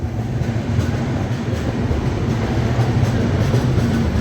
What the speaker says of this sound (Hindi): हाँ जी, finally overtaking Gorakhpur Panvel express